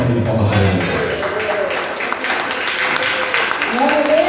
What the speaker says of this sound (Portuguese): Chama aí na família de palmas para ele.